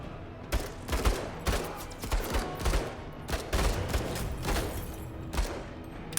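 Gunfire crackles in the Menace video game as a rapid fusillade of sharp shots comes in irregular clusters, fairly close and loud, with no talk over it.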